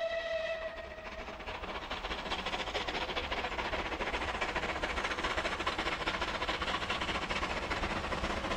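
A rebuilt West Country Pacific steam locomotive runs with a steady dense rushing rumble and hiss, opening with a brief whistle tone, heard from a distance throughout.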